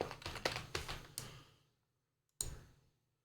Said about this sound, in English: Let's just try typing M knob.